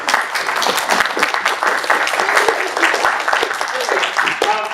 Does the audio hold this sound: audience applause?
yes